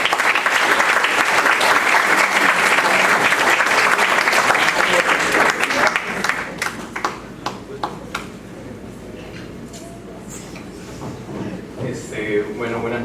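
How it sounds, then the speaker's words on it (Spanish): A crowd at a political communication magazine launch applauds the winner of a caricature contest, loud and dense at first, then thinning to scattered claps while voices murmur underneath. "pido un fuerte aplauso para él"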